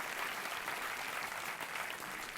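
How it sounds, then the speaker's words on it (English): Steady, dense clapping from an audience fills the short moment, even and sustained without pause. "big round of applause for him."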